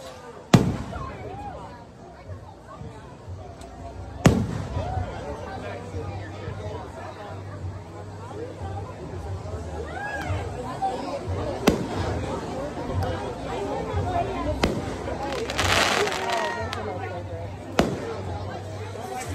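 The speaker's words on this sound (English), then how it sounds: "we're out here watching fireworks on July 5th" Fireworks show on July 5th at a Hudson, Florida bar and grill: repeated sharp bangs with loud crackling bursts under a steady murmur of a watching crowd, some bursts close and booming, others more distant.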